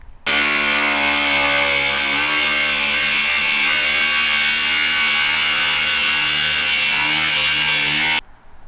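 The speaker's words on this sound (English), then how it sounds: "we're actually going to be using an angle grinder now to cut this one" Angle grinder cutting an opening for a Dometic roof fan in a van, a loud, continuous high-pitched metallic whine that holds steady for about eight seconds before stopping abruptly, with no talking.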